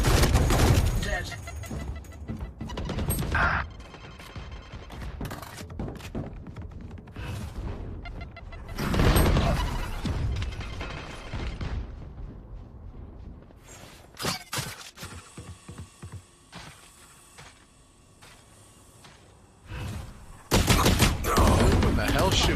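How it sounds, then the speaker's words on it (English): Bursts of gunfire in a Valorant match, scattered shots and short rapid volleys coming and going between quieter stretches, with a player talking over them. "What the hell's shooting at me?"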